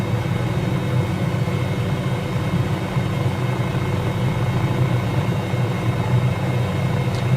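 A simulated MD500E helicopter flies in Microsoft Flight Simulator, its engine and rotor making a continuous droning hum with low throbbing, steady and even in level with no voices.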